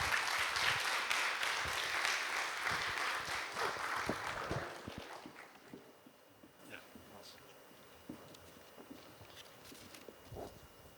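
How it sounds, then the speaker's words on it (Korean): Crowd applause at an academic conference fills the opening seconds with dense clapping, then thins out into scattered claps and a few voices in the background. "큰 박수로 맞이하여 주시기 바랍니다."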